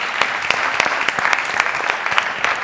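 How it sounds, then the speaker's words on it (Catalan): Audience applause at a book presentation in Sant Cugat, a short burst of scattered individual claps close by with distinct sharp hits over a steady clapping bed, lasting under three seconds. "un aplaudiment per tots"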